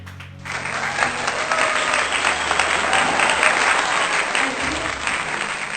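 A church congregation bursts into loud, sustained applause and cheering during a sermon, the clapping swelling up after a brief spoken moment and filling the room.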